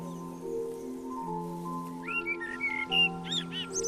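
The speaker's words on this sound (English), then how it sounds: "I could hear a blackbird singing quite closely." A blackbird sings from the top of a cypress tree at the bottom of a garden, fairly close, with short warbled and whistled phrases that begin partway through over a steady low hum.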